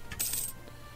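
Clinking coin chime announcing a silver fleet's arrival in the strategy game Europa Universalis 4, a short bright metallic jingle lasting about half a second before fading into quiet game ambience.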